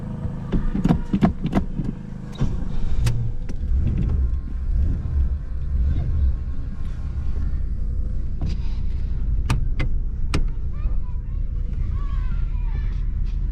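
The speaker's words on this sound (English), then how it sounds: "We're gonna go for a nice little drive, enjoy the scenery, enjoy the music" A 1982 Chevrolet Camaro Z28 out on a drive, its engine a steady low rumble from inside the car, with a few sharp clicks and thumps near the start and middle.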